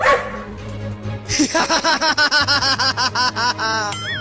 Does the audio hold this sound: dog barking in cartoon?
yes